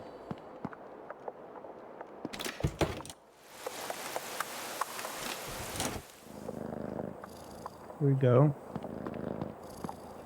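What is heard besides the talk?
cat purring in video game Creepy Tale 2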